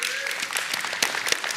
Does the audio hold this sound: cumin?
no